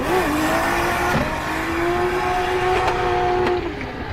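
A drift car's engine roars close by with rising and falling pitch, the revs dropping briefly as it brakes hard, with faint tire noise underneath.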